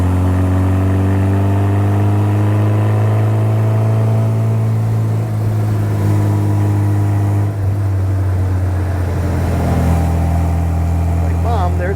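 A 1968 Morgan 4/4 engine drones steadily while driving, a strong low hum with harmonics that rises and falls slightly, continuous and close, with voices talking over it.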